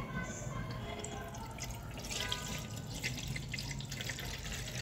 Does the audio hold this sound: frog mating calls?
no